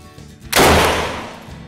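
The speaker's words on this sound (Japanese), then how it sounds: "あ、もう連発で撃てるんだ。" A single loud, close gunshot at a shooting range in Vietnam, a sharp crack with a ringing decay, no voices.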